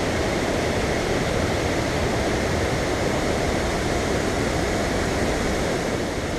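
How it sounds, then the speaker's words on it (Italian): The Tad Lo waterfall in Laos, which feeds the Sedong river: a steady, dense rush of falling water, loud and close, with no break or change across the whole span. "cascata Talo, le cui acque si riversano poi nel fiume Sedong che scorre a Paxe"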